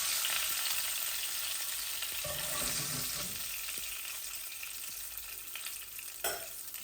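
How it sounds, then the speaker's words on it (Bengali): Tilapia fish frying in oil gives a continuous close crackling sizzle, with a few scraping stirs and a brief clank near the end. "এই দেখো আমার মাছ ভাজা হয়ে গেছে।"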